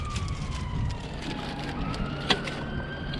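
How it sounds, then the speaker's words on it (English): An ambulance siren wails from a distance across a car park, its tone sliding slowly over a background of traffic rumble, with one brief sharp clunk near the end. "Oh, it's an ambulance."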